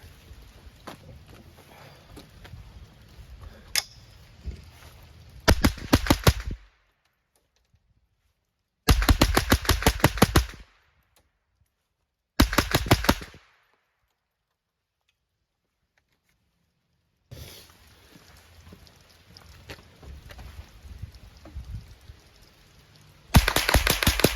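Bursts of automatic gunfire, rounds fired in strings of roughly ten, loud and close, separated by silent pauses, with low background rumble and handling noise between strings.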